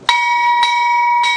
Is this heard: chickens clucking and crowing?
no